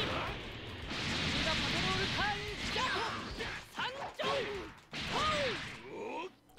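Rapid crunching hits and impacts from combo punches in Dragon Ball Xenoverse 2, with dense whooshes and bursts of effects layered together, loud and nearly continuous with brief gaps.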